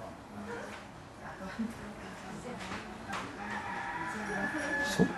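A rooster crows in a stretch of loud, continuous sound, its drawn-out call mixed in with a person's speaking voice rather than standing alone.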